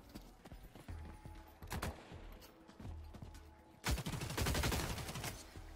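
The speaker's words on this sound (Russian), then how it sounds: "Вот он стреляет." Enemy gunfire in the sci-fi extraction shooter The Cycle: Frontier, with scattered shots first, then a rapid, sustained burst of automatic fire, moderately distant and fairly faint.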